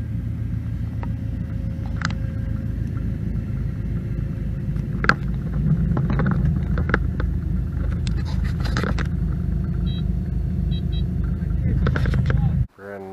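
A brand new 2021 Kubota R430 articulated wheel loader idles steadily with a low diesel rumble and occasional clanks and knocks, then cuts off abruptly near the end.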